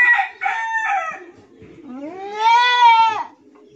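A native goat bleats loudly while struggling to deliver her second kid, with brief strained calls giving way to a long, wavering cry close by.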